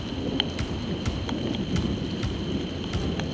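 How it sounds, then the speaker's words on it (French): A thunderstorm in the Beaujolais region of France, with steady, fairly loud rain hissing throughout and a few faint, distant rumbles of thunder underneath, no one speaking. "c'est le plus bel orage de la saison pour l'instant en France"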